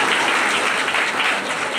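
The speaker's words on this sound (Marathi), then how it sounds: "आणि मग टाळ्या कोण वाजवेल?" Dense, steady clapping from a crowd fills the whole short stretch, loud and continuous with no voices standing out.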